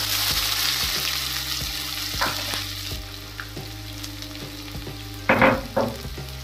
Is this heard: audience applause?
no